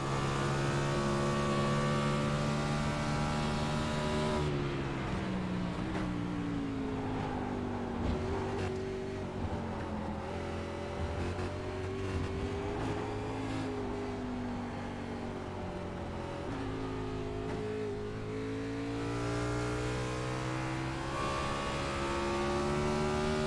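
Onboard race car engine droning loud and steady through a lap, with strong harmonic pitch rising and falling as the driver shifts and accelerates, continuous and close with no talk.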